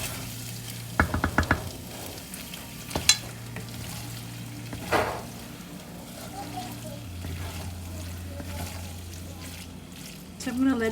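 Egg and rice noodles being stir-fried in a wok for char koay teow, with a steady soft sizzle, a few sharp clacks of a utensil against the pan early on and occasional scraping stirs.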